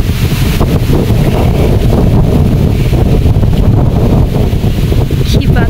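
Strong wind buffets an outdoor microphone with loud, continuous rumbling gusts throughout, near and steady with no clear pauses.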